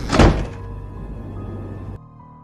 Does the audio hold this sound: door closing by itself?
yes